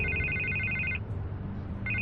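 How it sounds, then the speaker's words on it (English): In Batman The Telltale Series, a telephone rings in an electronic warble, one burst followed by a short gap and the start of the next ring, heard over a low background hum. "I can't get the phone to stop ringing."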